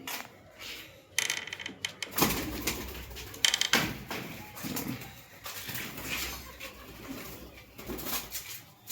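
Soft pigeon coos mixed with fluttering, clattering and scraping noises nearby, with no talking.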